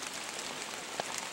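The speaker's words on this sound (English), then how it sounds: "It's just complete fogged in rain" Light rain patters in a foggy forest during hunting season, a soft, even hiss with one faint nearby drip or tap, quiet and without voices.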